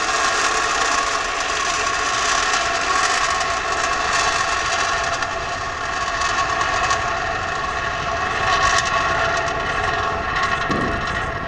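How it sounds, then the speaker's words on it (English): SpaceX Falcon 9 rocket engines roar at liftoff on the Dragon COTS C1 Demonstration Flight 2 launch, a dense, steady, loud roar filling the whole stretch without a break. "We have liftoff of the Falcon 9, stage right."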